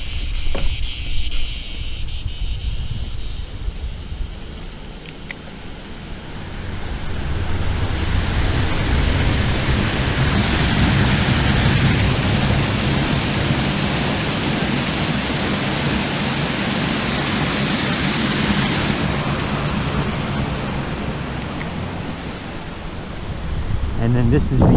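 Water pours over a little dam at Thunder Gust Lake, a broad steady rushing wash that swells and holds for most of the stretch, with faint wind buffeting the microphone.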